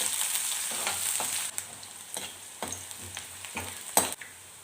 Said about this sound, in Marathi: कांदा चांगला लाल होऊ देते